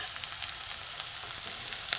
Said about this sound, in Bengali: গোটা গরম মশলা আর গোটা জিরে দিয়ে দেবো।